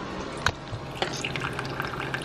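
Coffee brewing drips in small, irregular liquid taps and trickles, close and quiet, with no talk over it.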